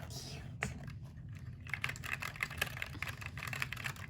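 Keys clack on an Akko Sakura Jelly mechanical keyboard in quick, uneven bursts of close, crisp taps, with a soft thump and a short pause early on and faint voices murmuring underneath.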